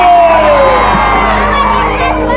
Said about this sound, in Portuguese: uma salva de palmas para o bom velhinho